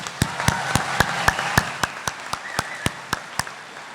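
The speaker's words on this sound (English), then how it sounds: "Please give another round of applause to all our academic honors." Clapping at a 2021 high school graduation ceremony, heard as a steady, evenly spaced series of crisp, close claps, about four per second, over a soft background wash.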